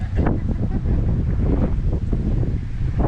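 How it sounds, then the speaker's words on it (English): Cold wind blows during bad weather in Mississippi, a steady loud rumbling roar buffeting the microphone without a break. "That's too much cold wind."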